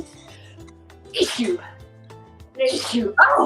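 A sneeze bursts out at close range in a home kitchen during enchilada cooking, followed by a second short exclamation, with people talking nearby throughout.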